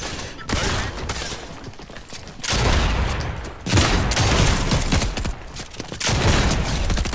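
Gunfire bursts in Fortnite come in repeated loud volleys of rapid shots, separated by brief quieter gaps, with no talking over them.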